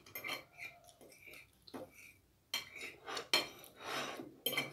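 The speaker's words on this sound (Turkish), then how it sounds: "Şöyle iyice sıyırıyorum hanım" Utensil scraping the last of a profiterole cake off a plate, a run of small clinks and scrapes of metal on crockery in bursts, fairly close, with no talk.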